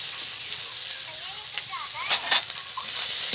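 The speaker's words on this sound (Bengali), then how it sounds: "সব মশলাগুলো একসঙ্গে মতো ভালো করে কষিয়ে নেব।" Ground ginger, cumin and green and dried chilli paste sizzles in hot oil in a pan while being stirred, a steady close hiss with scraping spoon strokes; a voice speaks faintly.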